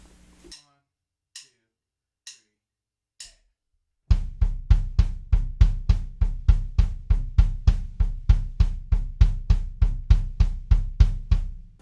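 Double bass drum pedals play a steady triplet diddle pattern against hi-hat eighth notes, preceded by a few sparse hi-hat ticks, then a dense, even run of punchy low kicks with crisp cymbal accents, close and loud with no talking.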